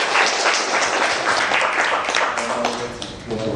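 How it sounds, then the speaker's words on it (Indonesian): Applause from an audience greeting Jakarta vice governor Basuki T. Purnama (Pak Ahok) on a visit by a group of master's management students: a dense, steady wash of clapping that fades slightly near the end, with voices mixed in. "Kita beri aplaus untuk Pak Ahok"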